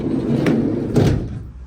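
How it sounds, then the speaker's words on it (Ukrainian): Side sliding door of a December 2019 Renault Trafic van (2.0 dCi, 88 kW, L2H1) rolls open, with two distinct thuds and rattles about half a second apart over a steady low background, no voices. "ще відкрию бокову дверку"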